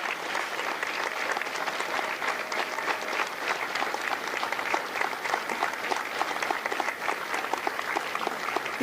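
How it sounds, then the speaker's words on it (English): A crowd at a Marine Corps recruit graduation ceremony at MCRD San Diego applauds steadily, a dense, even wash of many hands clapping that holds at a constant level for the whole stretch with no voices over it. "A round of applause for their dedicated service to Corps and country."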